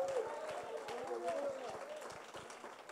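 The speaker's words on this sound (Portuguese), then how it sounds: "Então dê um aplauso bem forte ao Senhor" A church congregation applauds in worship, a steady patter of many hands clapping with voices mixed in throughout.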